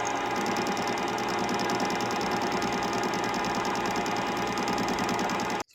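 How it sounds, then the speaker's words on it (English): Welding a bracket onto a metal disc for a desk lamp built from a motorbike engine head: a steady, loud crackling buzz runs unbroken for about five and a half seconds, then cuts off abruptly. "we're just going to weld it on to the other disc that we made"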